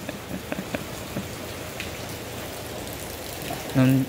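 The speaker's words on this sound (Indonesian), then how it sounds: "Lumayan deras untuk hujannya." Heavy rain pouring steadily with a dense, even hiss of drops hitting surfaces, a brief louder patch near the end.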